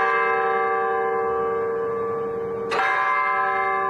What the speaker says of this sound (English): This is what will ring the bells quarter after, half hour, quarter till.